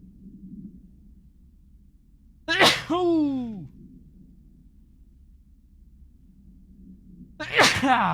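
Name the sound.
sneeze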